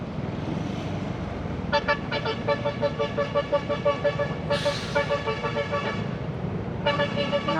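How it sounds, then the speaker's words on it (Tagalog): A large truck on a steep zigzag mountain road to Buscalan sounds its horn in repeated toots, with a longer blast partway through, over a steady engine rumble and road noise. "Bumubusin na yung truck kasi mabibitin."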